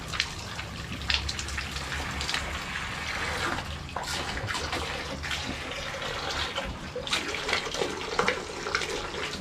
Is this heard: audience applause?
no